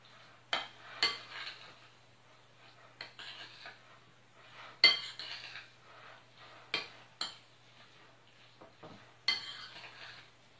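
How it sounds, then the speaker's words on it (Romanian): Rice salad with eggs, onion and olives being mixed in a bowl: a series of separate scraping clinks of a utensil against the dish, some louder, over a steady low hum, with no talking. "Amestecăm bine totul."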